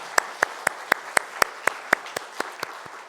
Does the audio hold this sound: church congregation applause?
yes